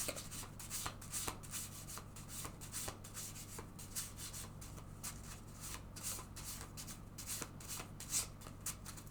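A deck of tarot cards is shuffled close up in repeated soft riffling bursts. The sound is faint and crisp with papery rubbing between the strokes, and nobody speaks.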